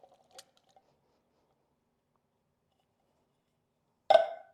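A single wet squelching plop as canned black beans with their juice slide out into a pot, loud and close after near silence.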